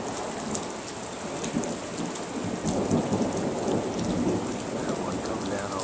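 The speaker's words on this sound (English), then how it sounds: "Hear all the thunder." Steady heavy rain hisses throughout a monsoon-season storm, with low rolling rumbles of thunder building in the background; no voices.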